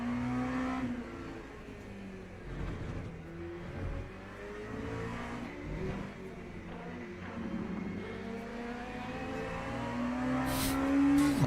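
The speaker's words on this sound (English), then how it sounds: "I just heard a very loud LMP2 incoming" An LMP2 prototype race car engine in the Le Mans Ultimate racing game whines and revs under a steady engine drone, rising in pitch as it closes in and grows louder toward the end.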